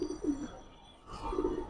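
Pigeons coo softly in two short bursts, one at the start and one near the end, separated by a quiet pause, close by and with no voices.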